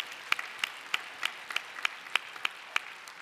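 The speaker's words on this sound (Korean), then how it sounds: "큰 박수 부탁드립니다" Rhythmic clapping in a church during a Sunday worship service, about ten evenly spaced sharp claps in a steady beat, fairly faint, as if one person or a small group is keeping time.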